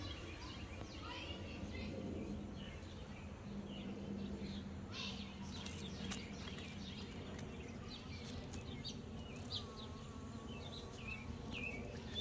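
Steady insect buzzing from several honeybees pollinating bushes in the open air, continuous and fairly close, with faint bird calls in the background.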